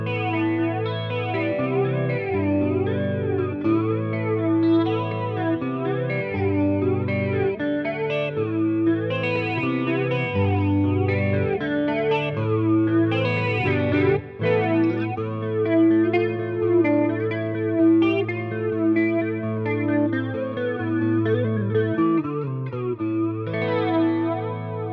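Electric guitar played clean through a Walrus Polychrome Flanger in the effects loop, chords and arpeggios swirling with a sweeping jet-like shimmer, steady and close for the whole stretch with no voices.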